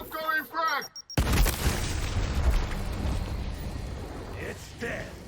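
Frag grenade detonating in the video game Gears Tactics: a sharp, loud blast hits about a second in and trails off into a long rumbling decay, following a brief shouted voice line and with another voice near the end.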